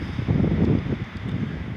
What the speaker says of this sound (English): There's lots of wind.